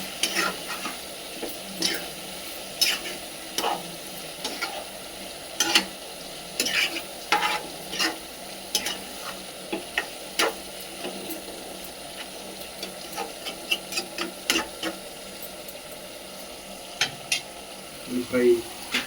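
Chicken curry pieces being stirred and fried in a pan, with a spoon scraping and clattering against the metal in irregular strokes over a continuous sizzle, close and fairly loud throughout.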